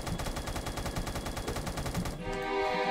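Sustained rapid gunfire from a light machine gun in Roblox Da Hood, a fast, even burst of shots that stops abruptly and leaves a low background hum.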